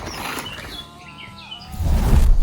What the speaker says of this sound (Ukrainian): Чуєш, пташка співає.